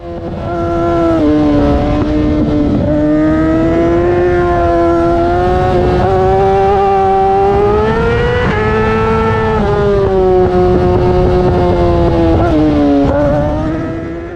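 Race car engine at full throttle on the Podium Club circuit, a loud, steady high-revving drone that rises and dips through corners with throttle lifts, close and continuous throughout, with no talking.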